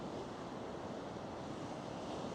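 Sea waves wash continuously onto a British holiday-park shoreline, a dense, broad rush of surf with wind buffeting the microphone, steady and fairly close with no voices.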